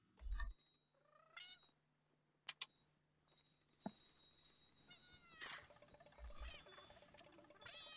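Cats play with toys in The Sims 2. Game meows and rising cat cries sound over a soft background tone, with jingling toy clinks and a few sharp taps.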